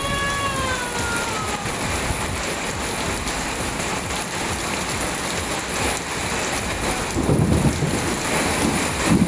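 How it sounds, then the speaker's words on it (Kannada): Heavy rain pouring at Biligiri Rangana hills, a dense steady hiss of drops on surfaces with rolling thunder swelling near the end, no voices. "ಬಿಳಿಗಿರಿ ರಂಗನ ಬೆಟ್ಟದಲ್ಲಿ ಭಾರೀ ಮಳೆ ಆಗಿದೆ"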